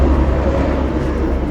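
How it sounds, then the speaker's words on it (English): A helicopter passes overhead as a loud, steady low rumble and roar, filling the whole brief moment with no talking. "Sorry, there's a helicopter."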